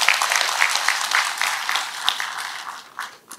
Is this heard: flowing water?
no